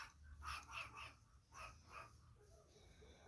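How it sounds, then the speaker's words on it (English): A dog barks in a quick run of about five sharp barks and yips, fairly faint and from a short distance, heard at home beside a workspace where a small engine's carburetor is being cleaned. "my dog's barking"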